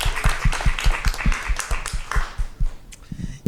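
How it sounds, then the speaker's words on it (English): Several people clap at a school district governing board meeting, a sparse, rhythmic round of distinct claps close to the microphone that trails off after about three seconds. "Let's give him a round of applause."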